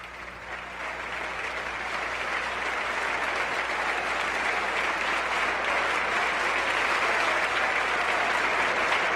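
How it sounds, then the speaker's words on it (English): Members of the United States Congress give a speech a sustained, enthusiastic round of applause. The dense clapping from a large crowd fills the hall and holds steady without pause, with no voices above it. "you can hear the sustained and very enthusiastic applause."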